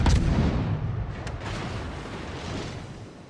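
Naval gunfire from the USS Benson destroyer in World of Warships, aimed at an Amagi battleship near an island: a heavy boom opens the clip, a sharper report follows near the middle, and a dense rumbling battle wash runs beneath with no talk.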